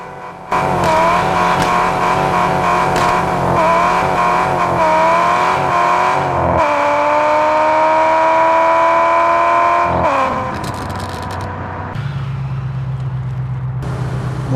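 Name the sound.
car engine revving while drifting in Car Parking Multiplayer video game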